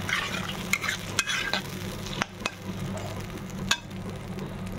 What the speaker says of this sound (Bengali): এবার একটু ভালো করে কষানো হবে এটাকে